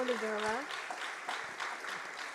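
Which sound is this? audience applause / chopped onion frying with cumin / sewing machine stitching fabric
audience applause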